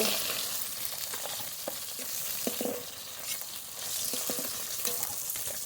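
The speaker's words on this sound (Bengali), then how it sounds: "এই মাছগুলো ভাজা হয়ে গেছে নামিয়ে নেব" Pieces of fali fish fry in hot oil, a steady broadband sizzle throughout with occasional sharper spatters and crackles, close and fairly loud, with no talking.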